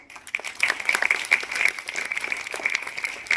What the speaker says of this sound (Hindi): अभी तालियां और बजाएंगे आप उसके लिए।